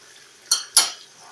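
Two short metallic scrapes as a utensil stirs onions in a kazan while cooking Kyrgyz plov, close and fairly loud against a quiet background.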